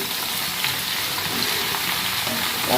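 Prawns with potatoes and soybean chunks fry in a pan, producing a loud, dense, unbroken sizzle with faint stirring scrapes and no talking.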